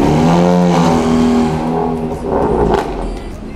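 Honda Brio Type R with Dastek tuning and coilovers revving hard on a dyno, the engine note loud and close, rising and then easing off with a second smaller surge near the end.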